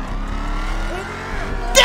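A 2015 Mustang in GTA 5 with a supercharged engine note, a loud steady rumbling drone with rising whine overtones, ending in a brighter burst of noise.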